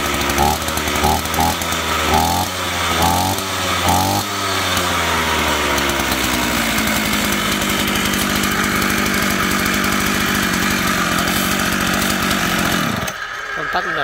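A used Japanese chainsaw engine runs loud and steady throughout, revving unevenly at first with several surges before settling into a sustained high idle that cuts off near the end.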